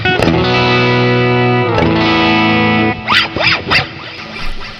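An electric guitar through an amp modeler with the compressor threshold all the way up plays heavily distorted chords that ring out for about three seconds, followed by someone talking.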